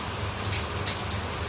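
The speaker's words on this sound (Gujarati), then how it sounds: "બહાર વરસાદ ફૂલ બાકા ઝીકી બોલાવે છે, જોઈ શકો છો તમે." Heavy rain pouring down outside a house, a steady dense hiss with a low rumbling undertone, continuous and fairly close, with no voices.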